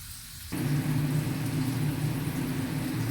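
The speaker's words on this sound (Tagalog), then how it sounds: "gigisa ko lang muna and then pakita ko sa inyo later pag okay na ha" Ingredients for lasagna start sautéing in a pan: after half a second of quiet, a steady loud sizzle and hiss sets in and keeps going, close up with a low hum beneath.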